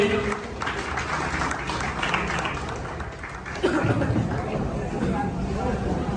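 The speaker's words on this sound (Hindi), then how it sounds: "तो जोरदार ताली राजन दिवाकर भैया के लिए" Audience clapping and cheering at a YouTubers' meetup in Bemetara, a steady wash of applause mixed with crowd chatter and babble that swells again near the end.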